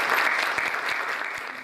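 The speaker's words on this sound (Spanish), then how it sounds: "yo quiero darles un aplauso." Audience at a community talk on violence in Río Tercero applauding, a dense steady burst of clapping that fills the space and slowly tapers off.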